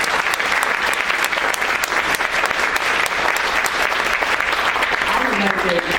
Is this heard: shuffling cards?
no